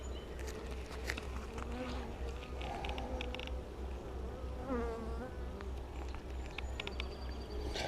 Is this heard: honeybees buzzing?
yes